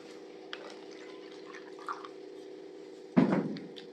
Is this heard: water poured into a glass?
yes